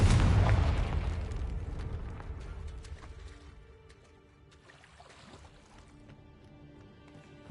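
A Confringo blasting spell explodes in Hogwarts Legacy on PS5, a loud deep boom at the start that rumbles and decays over several seconds into faint crackling debris.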